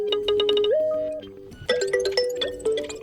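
An iPhone 15 ringtone preview plays: a bright, close electronic chime melody of quick repeated notes, a brief pause, then a rising run of plinking tones.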